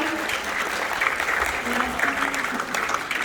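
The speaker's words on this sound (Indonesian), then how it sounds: "kita beri tepuk tangan dulu dong teman-teman" Audience of students at a university Q&A session applauding, steady dense clapping throughout with a faint voice underneath.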